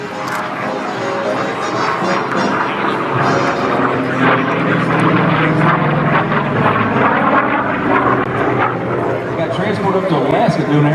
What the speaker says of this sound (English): There's the Corsair coming.